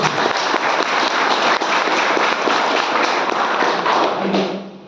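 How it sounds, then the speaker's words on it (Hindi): Audience applause at a talk during a disease reversal session, a dense continuous patter of many hands clapping at steady loudness for several seconds before tapering off at the end. "फिर से उनके लिए तालियां होनी चाहिए।"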